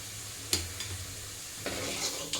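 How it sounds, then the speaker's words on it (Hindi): Eggs frying softly in a pan after potatoes are removed, for egg and potato gravy, with a gentle sizzle and a few sharp scraping knocks of a utensil stirring. "आलू को निकालने के बाद अंडा को फिर फ्राई करेंगे"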